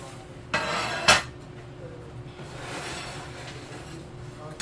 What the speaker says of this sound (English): let me get a little plate for this.